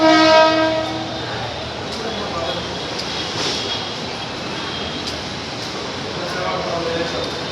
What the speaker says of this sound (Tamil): Terminal Local Kanya Express is arriving shortly on platform number 12.